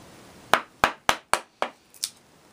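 A chisel pops waste out of a wooden tobacco box, six sharp knocking strikes in quick succession, each with a short woody ring, close and fairly loud with no talking.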